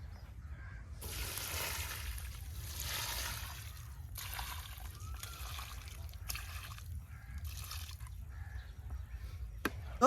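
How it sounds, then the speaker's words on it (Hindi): Water pours and trickles onto a mango plant in a pot, a continuous splashing flow broken into several bursts with short pauses, close and moderately quiet. "चलिए इसमें हम अभी पानी डाल देते हैं"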